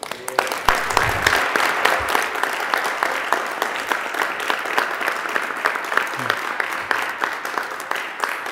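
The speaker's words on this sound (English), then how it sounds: "Let's get another nice round of applause for Kristen Garvin." A school committee audience applauds steadily and fairly close, a dense continuous clapping that holds for the whole stretch with a few voices faintly mixed in.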